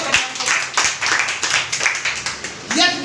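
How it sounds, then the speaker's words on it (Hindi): An audience at a network marketing plan meeting bursts into a loud round of applause, dense clapping running throughout with a few sharper claps standing out, while a voice talks over it. "उनके लिए एक बार जोरदार ताली"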